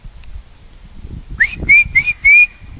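A person whistles a few short, sharp notes close by at a deer in Stanton Country Park, Swindon, rising then holding steady, after a quiet stretch with faint rustling.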